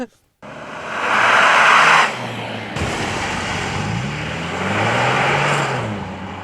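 A 2021 Hyundai Sonata N-Line in Sport Plus drives past with its wheels spinning, a loud close engine roar that swells and falls with shifting pitch, ending in steady road noise.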